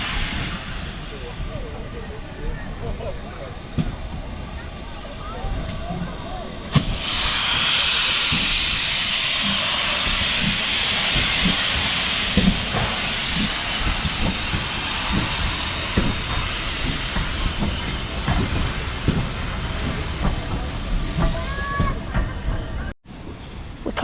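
Steam locomotive Pendennis Castle at a railway centre hisses loudly and continuously as it moves from the turntable toward the main line tracks, with chuffs and clanks underneath and a brief high whistle near the end.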